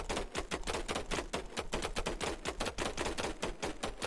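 Rapid computer mouse clicking, a dense run of sharp clicks that speeds up into a near-continuous clatter, loud and close, with no talking.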